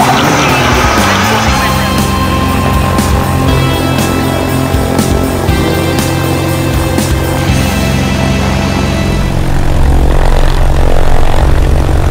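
Small propeller airplane landing on a short runway on Siquijor island in the Philippines, a steady loud engine drone with rumbling that persists throughout, rising slightly near the end.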